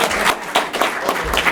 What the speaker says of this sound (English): So let's please give her a nice round of applause